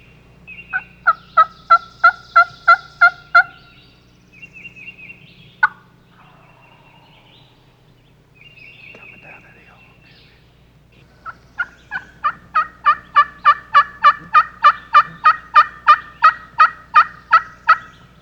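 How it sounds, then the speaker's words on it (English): Wild turkeys in Missouri's Mark Twain National Forest, with a long rapid run of pulsing gobbles, then quieter softer calls, then another sustained gobbling run, moderately near and alone over a low steady hum. "some turkeys started gobbling on their own"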